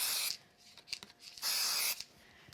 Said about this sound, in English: add a little bit of spray glue to that back of this one